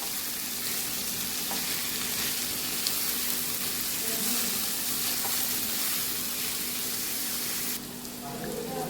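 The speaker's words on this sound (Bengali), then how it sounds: "এবারে পেঁপেটা দিয়ে দেবো। একদম লো ফ্লেমে করতে হবে।" Papaya cooks on a very low flame in a pan, giving a steady, even sizzle with a soft hiss throughout, close by. It dips slightly near the end.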